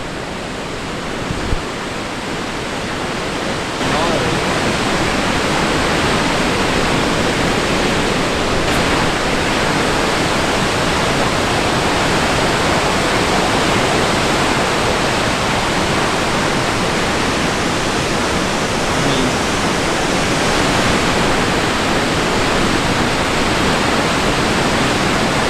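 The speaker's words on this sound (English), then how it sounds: "Just an astounding amount of water coming over that thing." A powerful Icelandic waterfall roars close by in cold, rainy weather, a dense unbroken rush of heavy falling water that holds steady and loud for the whole stretch.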